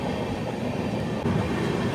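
The Coromandel Express rumbles steadily along the rails, a loud, continuous roar of wheels and carriage noise heard from on board, with no voices.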